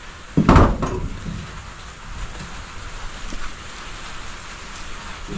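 Light rain falls steadily outdoors at a spot where firewood is being chopped, a soft even hiss of drops with a brief clatter near the start and no talking.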